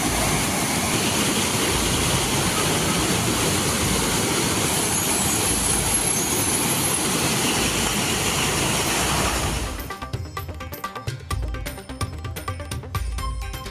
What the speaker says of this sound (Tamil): கொட்டிய மழையால் அருவிகளில் கொட்டும் தண்ணீர்